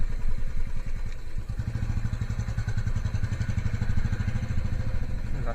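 A motorcycle engine drones steadily close by during an empty late-night ride on a Kolkata expressway, with a pulsing mid-pitched throb and some rattle, alone without talk.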